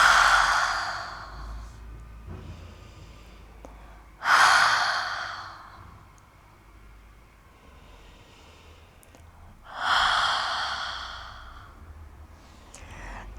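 Ujjayi pranayama breathing with the throat constricted: three long, audible breaths with a soft ocean-like rasp. They rise and fade in slow cycles, close and alone.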